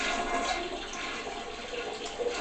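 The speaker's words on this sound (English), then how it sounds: "when we hit the flush, water goes roundy roundy" A household toilet flushes, water rushing and swirling steadily in the bowl without draining away, a loud close wash of noise with no one speaking.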